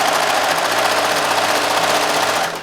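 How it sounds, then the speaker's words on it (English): A serger overlock sewing machine runs steadily while sewing a thread chain, a loud, close, continuous rapid mechanical whir that holds even for the whole stretch and slows slightly at the very end. "So I'm going to hold these to the back and start sewing the chain through."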